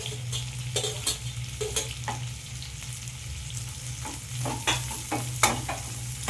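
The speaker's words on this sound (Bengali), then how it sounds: "দিয়ে দিলাম ফুলকপি, বিন আর ক্যাপসিকাম।" Cauliflower, beans and capsicum frying in a pan for a vegetable dal, a steady sizzle broken by repeated sharp scrapes and clinks of a spatula stirring against the metal, close and without speech.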